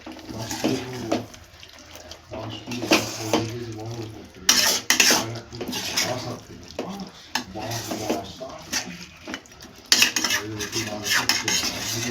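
A spoon scrapes and clanks against a pot of spicy Bengali chicken curry as it is stirred after the lid comes off, in irregular bursts of metal-on-metal knocks with a faint sizzle beneath.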